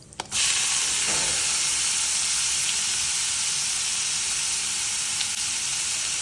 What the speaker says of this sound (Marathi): हे छान गरम झाल्यावर आपण टाकणार आहोत 3 मीडियम साईज कापलेले कांदे, कट केलेले.